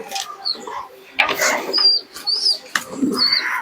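Pigeons coo from a loft of birds kept for sale in West Bengal, several soft murmuring calls overlapping with brief chirps and a flutter of wings, fairly close, with no talk.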